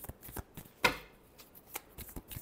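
Tarot cards being shuffled by hand, quiet close riffles and soft slaps in a few short bursts, one sharper riffle standing out, no talking.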